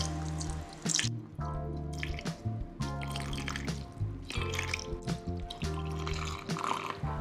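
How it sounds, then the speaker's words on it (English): Makeup remover is poured over a paper towel roll and drips and trickles in close, quiet, irregular bursts, with steady background music throughout. "Pour your makeup remover over the roll so that it's completely soaked."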